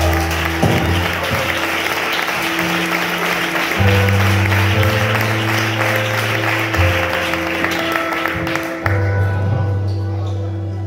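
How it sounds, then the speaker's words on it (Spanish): Church congregation applauding at a youth gathering, steady sustained clapping with a sustained musical tone underneath, loud and close throughout. "Dale un fuerte aplauso a Dios, por favor."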